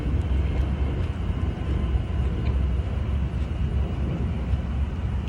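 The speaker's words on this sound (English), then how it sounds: "as the plane flies over again" A steady, loud broadband roar of an airplane passing overhead, continuous and unbroken throughout with no voices over it.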